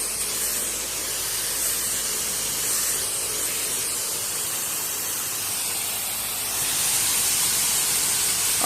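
A spray gun lays a light dust coat of 2K primer onto a panel, a close, continuous airy hiss of compressed air and atomized spray that holds steady and swells slightly near the end.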